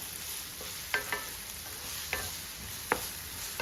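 Grated carrot and vegetables sizzling in a hot pan for noodles, with a soft steady fry hiss and a few sharp scrapes of a spoon stirring at intervals.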